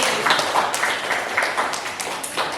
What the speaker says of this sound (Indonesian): Tepuk tangan untuk kelas 9B.